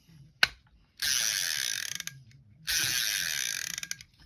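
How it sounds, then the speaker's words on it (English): The clicker on a Daiwa GS 2000 spinning reel ratchets in two close, bright buzzing bursts of rapid clicks, each about a second long, preceded by a single sharp snap of the switch. "Turn the clicker on."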